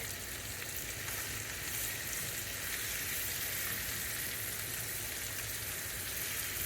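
Chicken pieces browning in a pan hiss and crackle in a steady, even sizzle that stays fairly quiet and unbroken throughout, with no one talking.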